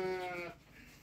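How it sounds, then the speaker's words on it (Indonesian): A sheep on a rabbit farm gives one short, faint bleat that fades within half a second, leaving only quiet background noise. "Nih, ada domba juga."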